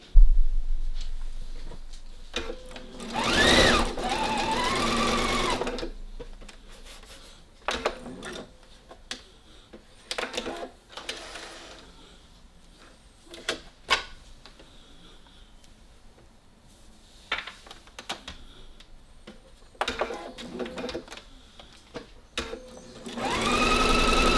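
Sewing machine stitching knit fabric for a dress, running in several short bursts of rapid mechanical whirring separated by pauses, fairly close and clear with no talking.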